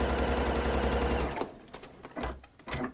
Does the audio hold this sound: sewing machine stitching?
yes